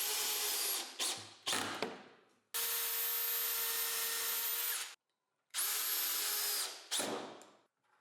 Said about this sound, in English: I drill all the holes